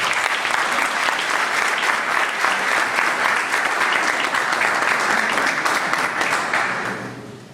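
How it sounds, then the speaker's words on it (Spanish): Loud, dense applause from an audience welcoming a speaker at a lecture, a sustained roar of many clapping hands that fades away over the last second. "dar un fuerte aplauso"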